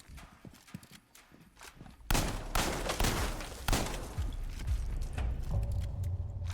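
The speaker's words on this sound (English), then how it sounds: "Little 4-pop shotgun for Denari." Shotgun fire in Modern Warfare Remastered during a competitive match gives two loud, sharp blasts amid continuous clattering game sounds.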